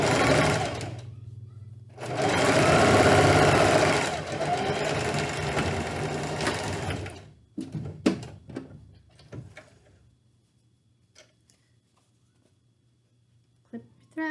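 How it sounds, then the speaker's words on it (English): A sewing machine stitches fabric for a face mask in two loud, continuous bursts, followed by a few short stitching taps and handling clicks, then near quiet. "Sew down that side, drop your needle, turn your fabric"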